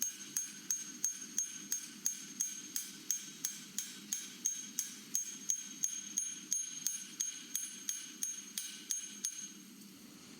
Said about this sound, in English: I lean my hammer left and right to create more variance in the marks.